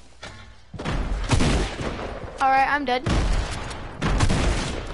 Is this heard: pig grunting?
no